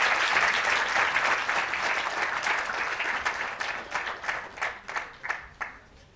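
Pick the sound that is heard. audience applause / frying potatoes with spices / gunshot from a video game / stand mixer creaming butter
audience applause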